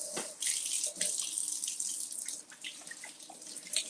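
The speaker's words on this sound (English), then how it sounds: "Let me wash my hands." Tap water runs into a kitchen sink while hands are washed beneath it, a continuous close splashing stream with uneven gurgles and drips as the hands move through the flow, no one speaking.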